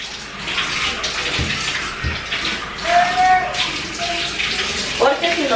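Running water from a tap rinsing off a vinegar and baking soda cleaner in a sink or tub, a steady close splashing and hissing flow.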